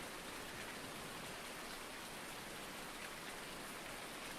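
Constant rain in Farming Simulator 19, a broad unbroken wash of falling drops at an even level throughout, with no voices.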